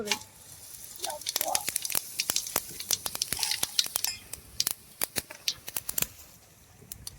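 Cinnamon bark sizzling in hot oil in a gravy pan on the stove, crackling and popping in quick irregular bursts, close and clear, with brief speech in the background.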